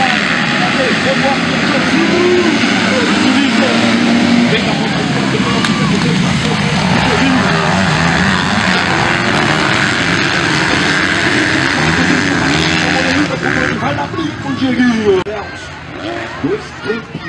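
MX2 motocross motorcycles rev their engines at a race start in Figueirão, making a loud sustained roar. An announcer talks over the noise, which breaks up into uneven bursts near the end.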